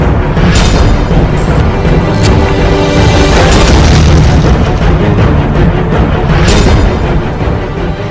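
Bomb blasts in Bhagalpur: a loud, dense wall of deep booms and crashing bursts that rolls on continuously, with several sharper impacts punching through.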